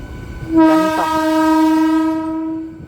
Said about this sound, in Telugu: వ్యాప్ 7 లోకోమోటివ్ ఉంది ట్రైను.